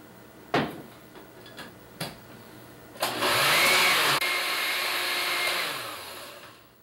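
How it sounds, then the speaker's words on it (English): A few sharp knocks and clicks, then a blender whirs loudly for several seconds nearby, pureeing coconut and cilantro, before winding down. "You may have to add some water to make the blender run smoothly."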